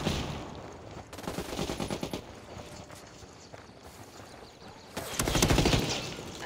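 Gunfire in a shooting video game, with bursts of rapid automatic shots in two clusters separated by quieter stretches of fainter pops and movement, moderately loud and close.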